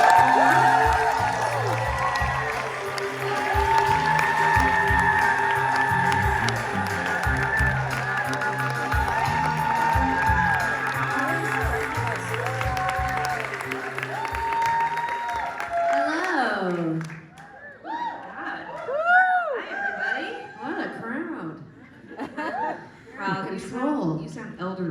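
A live New York audience cheers, claps and whoops as guests Tegan, Sara and Tilly are welcomed to a book event, a loud sustained crowd roar that fades after about sixteen seconds into scattered laughter and talk.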